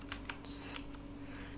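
A few quick keystrokes on a computer keyboard while typing Flutter code, faint clicks close by over a steady low room hum.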